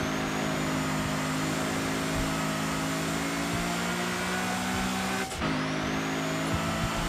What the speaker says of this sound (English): You hear that wastegate?